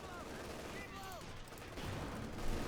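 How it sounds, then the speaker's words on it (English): Panzerwerfer rocket artillery fires in a Company of Heroes 2 match, with whistling rocket tones rising and falling over dense battle gunfire and explosions, while a commentator's voice runs underneath. "Close to the east over there on the Panzerwerfer, firing again."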